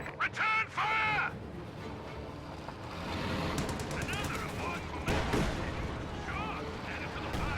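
Gunfire in a wargame video game battle, bursts of rifle and musket-like shots crackling in irregular volleys alongside synthetic game effects, moderately loud and mixed with other battle noise.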